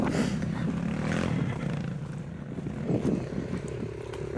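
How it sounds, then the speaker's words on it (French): A motorcycle climbs a steep uphill stage at a green rally, its engine droning loud and steady nearby, then easing and picking back up, with rough outdoor noise mixed in. "une moto de montée"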